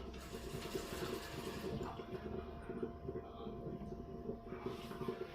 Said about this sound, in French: Je rajoute mon eau fraîche jusqu'au trait.